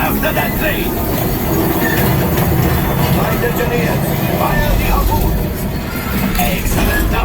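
Train sound effects aboard the Rise of the Resistance ride, a loud continuous rumbling roar with clattering and metallic screeching throughout, blended with dramatic ride narration and excited voices.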